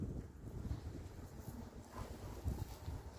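Wind gusts outdoors in a garden, a faint, uneven rushing that buffets the microphone in soft surges.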